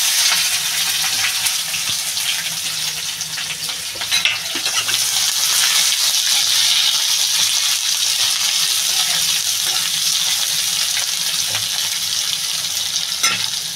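Onions go into a hot pan and fry in oil beside a chilli paste, producing a loud steady sizzle with repeated stirring scrapes and occasional sharp clinks of utensils, no speech.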